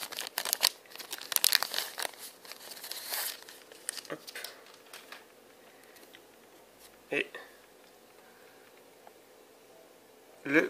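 McDonald's Pokémon card packets are torn and opened, with sharp plastic crinkles and rustles that come in bursts and then in sparse, quieter handling sounds.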